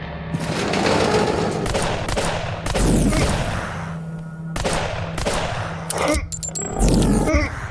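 Loud video game gunfire crackles in repeated bursts and booms with roaring blasts, alone with no talk and a few short gaps between volleys.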